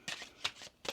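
A deck of tarot cards gets shuffled by hand in three quick, crisp riffling bursts, close and fairly soft, with no talking over them.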